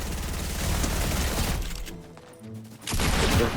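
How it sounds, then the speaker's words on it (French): Rapid mechanical gunfire from a minigun in Fortnite, a dense continuous burst that cuts out, leaves a brief lull with faint tonal game sounds, then resumes loud near the end. "Il fait le bruit de l'ancien minigun quand il surchauffait pas?"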